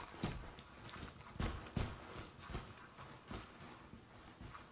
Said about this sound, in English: I hear footsteps outside.